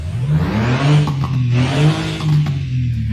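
Porsche 911 in Euro Truck Simulator 2 revving its engine, a throaty fluctuating drone rising and falling in pitch with short crackling exhaust pops scattered through, fairly close and without talk.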